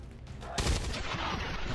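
Strafing fire in the video game XCOM 2: a sudden loud burst of gunfire that rolls into a sustained rumbling barrage, heard alone.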